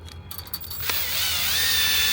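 A power drill whirs and ratchets while twisting wire, then settles into a steady high-pitched whine as it spins clockwise, close and fairly quiet.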